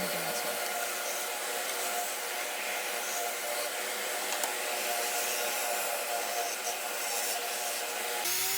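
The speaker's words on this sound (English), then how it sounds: "this sander right here is what saved me" Handheld power sander running steadily to smooth bandsaw tool marks off a wooden charcuterie board, a continuous close whirring hiss with scraping rub that holds even throughout and cuts off near the end.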